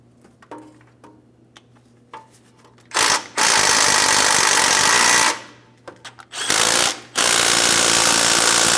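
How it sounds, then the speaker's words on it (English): Power tool snugging the starter mounting bolts on a 2015-2025 Ford Transit 250, heard as two loud, sustained runs of roughly two seconds each, separated by a brief pause and preceded by faint clicks and handling noise. "Once you have both pieces of hardware started in, we can continue on snugging these up."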